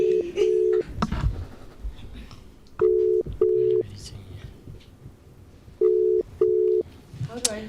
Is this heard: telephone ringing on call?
yes